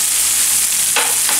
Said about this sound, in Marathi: आता हे आपण आलं आणि लसूण त्यानंतर हा टोमॅटो टाकून परतून घेतो